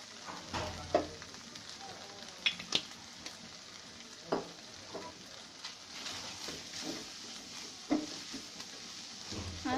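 Noodles fry in a pan with a soft continuous sizzle, punctuated by sharp scraping knocks of a utensil stirring them every second or two; faint and close, with no talk.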